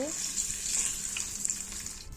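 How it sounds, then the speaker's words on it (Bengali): Boiled eggs frying in hot oil, a continuous bright sizzle with faint stirring taps near the end. "ডিমটা আমি ভেজে নিচ্ছি, একটু নেড়ে চেড়ে দিব।"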